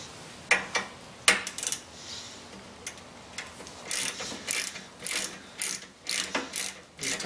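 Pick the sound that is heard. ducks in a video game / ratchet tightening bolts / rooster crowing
ratchet tightening bolts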